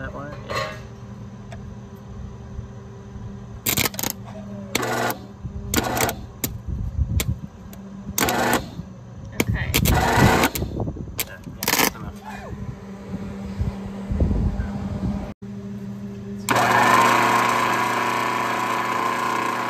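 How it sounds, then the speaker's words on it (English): A car's starter motor spins in repeated short bursts without the engine catching, each cranking spell stopping and restarting close by, with people talking in between and over the attempts. "the starter is spinning, but it's just not working properly"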